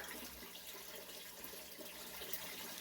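Water is poured steadily onto potting soil sown with pepper seeds, giving a soft, even splashing and trickling that stays faint and unbroken.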